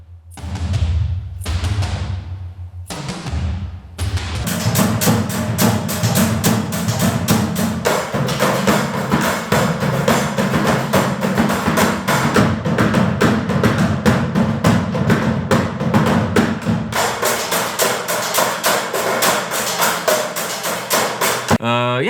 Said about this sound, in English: to put in a bunch of percussions, and that sounds like this